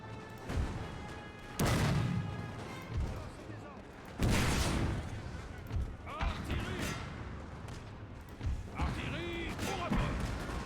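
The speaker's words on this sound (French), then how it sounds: "Artillerie, au rapport. Le canon est prêt" Cannon fire from artillery batteries in the Napoleon: Total War video game, during a war against Prussia, heard as several loud booming blasts at irregular intervals mixed with battle noise, with voices speaking throughout.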